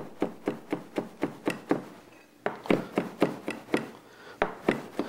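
A knife dices a fresh garlic clove on a cutting board in a kitchen, giving crisp, evenly spaced chops in two quick runs separated by a brief pause, close and clear.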